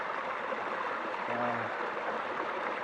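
A creek flows in open country with a steady, soft rushing of water, continuous and fairly faint throughout, with a brief low tonal hum in the middle.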